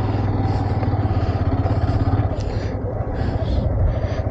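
A motorcycle engine runs continuously at a steady low rumble while riding and turning near Choila ghat in Manikganj, with wind noise and faint voices over it.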